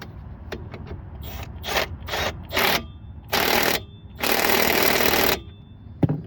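Tightening a car strut and tie rod during front end repair brings bursts of rapid ratcheting and buzzing tool noise, several short loud runs separated by pauses, with light clanks between.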